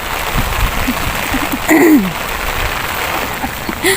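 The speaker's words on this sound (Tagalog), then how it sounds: "ulan maliliit" Light rain falling in the Philippines, a steady soft patter with a faint gurgle, plus a brief chirp-like sound near the middle.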